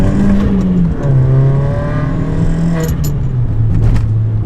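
A Volkswagen GTI engine, cold and just started, revs loudly and close by, rising and settling in steady pulls with a rough, droning note and no voices.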